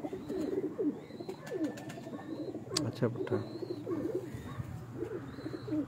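Pigeons coo repeatedly in soft, low, rolling calls nearby, while someone speaks briefly over them.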